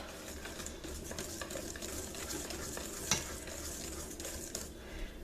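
A spoon stirs pumpkin bread batter in a stainless steel bowl, producing steady close scraping and swishing with a few light metallic taps, fairly quiet and without speech.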